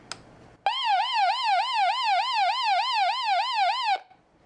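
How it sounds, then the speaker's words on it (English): The siren on a Degen DE13 survival radio wails loud and close, a rapid rising-and-falling electronic tone held steadily for about three seconds before cutting off abruptly. "So that's the siren."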